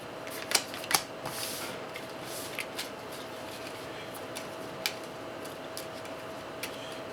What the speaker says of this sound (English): do a little power shuffle with these guys